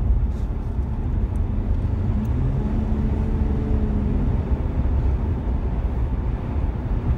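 A 2017 Jeep Wrangler Sahara on all-terrain tyres accelerating on a paved road, heard from inside as a steady engine drone and road roar with some wind noise, no talk.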